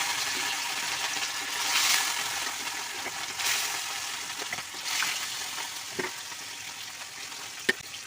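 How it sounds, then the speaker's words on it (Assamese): Fish fries in hot oil in a wok, a constant close sizzle with soft swells and a few sharp clicks from a utensil, with no talking. "তেলখিনি গৰম হোৱাৰ পিছত মাছখিনি দি দিছোঁ মই"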